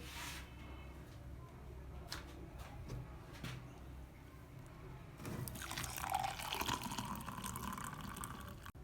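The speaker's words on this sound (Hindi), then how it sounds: "अब इसको हम गिलास में शामिल करेंगे।" A homemade iftar drink is poured from a container into a glass, with a soft trickle early on and then a fuller, louder stream of liquid filling the glass close by, without talk.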